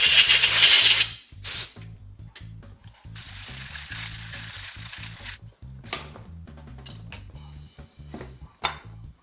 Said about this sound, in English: And then I'll get the air hose.